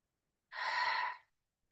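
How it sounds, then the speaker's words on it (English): A single deep, breathy exhale taken during meditation, soft and close, lasting under a second with silence before and after. "Take a breath."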